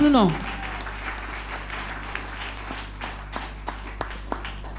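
A church congregation breaks into applause after a short sung or spoken phrase, a dense crowd of clapping that thins into scattered claps under a steady hum, with voices mixed in.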